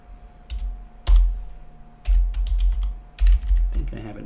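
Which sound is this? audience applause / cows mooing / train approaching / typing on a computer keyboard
typing on a computer keyboard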